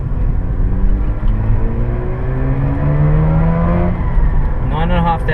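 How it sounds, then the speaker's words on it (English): Mazda RX-8 40th Anniversary rotary engine revving high, its pitch climbing smoothly and steadily to a loud, close wail, with a voice talking over it. "it revs so high and so sweetly"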